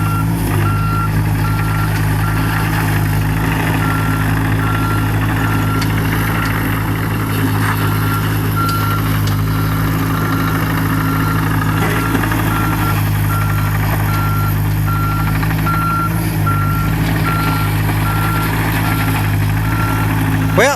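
A rental tracked digging machine with worn, nearly bald tracks runs steadily at close range, its engine drone constant while a reversing alarm beeps in a regular repeating pattern throughout; a voice is faintly present beneath.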